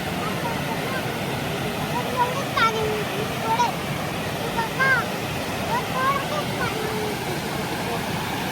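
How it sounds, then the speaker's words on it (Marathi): The Lingmala waterfall at Mahabaleshwar runs at high flow after heavy rain, a dense, steady rushing roar that fills the scene throughout, with faint voices and a few thin chirps above it. "पाण्याचा फ्लो जास्त आहे कारण पाऊस जास्त पडतो इकडं, त्यामुळे पाणी वाढलेलं आहे."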